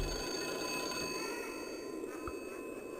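Telephone ringing in the video game Dracula: The Last Sanctuary, a steady electronic bell-like ring holding constant tones throughout, fairly loud and alone with no talk.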